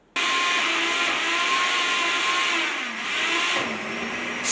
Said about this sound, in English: Did he just get out a blender? That's definitely a blender.